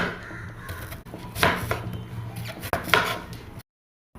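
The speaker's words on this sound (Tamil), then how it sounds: "இப்படி ரவுண்ட் ரவுண்டாக கட் பண்ணி எடுத்துக்கலாம்" Several crisp knife chops cutting banana stem into rounds against a board, close by, with a couple of louder strikes spaced out, then a sudden silence at the end.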